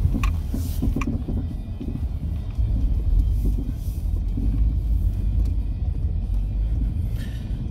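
A Jeep Renegade Trailhawk drives off-road across an open field, its engine and tires making a steady, loud, low rumble with no break.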